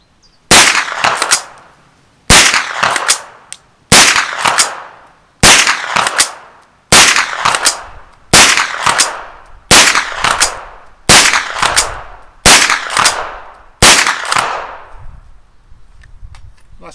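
A Schmeisser SP9 straight-pull rifle fires ten loud, sharp shots outdoors, spaced about one and a half seconds apart, each crack followed by a short ringing decay, with the last echo fading into quiet.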